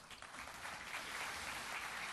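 Faint, steady applause from a lecture audience, a soft continuous wash of clapping with no voices, heard from some distance.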